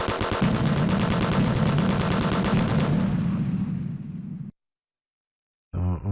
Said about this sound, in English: Shoot with secondary weapon.